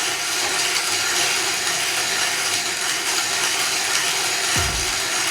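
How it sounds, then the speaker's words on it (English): Rok GC manual coffee grinder crushing coffee beans between its burrs, a steady, even gritty grinding texture throughout with no motor hum, close and moderately loud, ending with a brief low thump. "All you really hear is basically the actual beans getting smushed in the burrs and nothing else."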